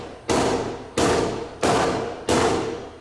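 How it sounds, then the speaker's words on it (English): A Sig Sauer P320 pistol loaded with dummy rounds struck repeatedly in impact testing: four loud, sharp, evenly spaced thudding blows, each with a short decaying ring, close and with no talk. "He tried what's known as impact testing to see if the gun would discharge the dummy round without the trigger being pulled."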